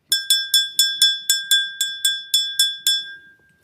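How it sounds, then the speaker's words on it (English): A small hand bell rings about a dozen times in a quick, even series of bright metallic strikes, close and clear. The peals fade out at the end, and no voices are heard. "I ring this bell before I get started."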